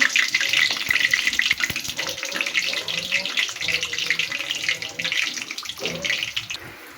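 Meat-and-flour pitha drop into moderately hot oil and fry with a dense, bubbling hiss. Scattered small clinks sound over the steady, close sizzle.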